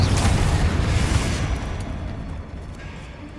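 Spell blasts from the Bombarda and Confringo explosion spells in the Hogwarts Legacy video game: a loud, deep booming burst that rumbles and slowly fades over a few seconds.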